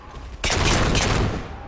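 A fusion coil explosion in the Halo 4 video game goes off as a sudden loud close blast, with a sharp onset and a roaring, crackling tail that fades over about a second, with no talking.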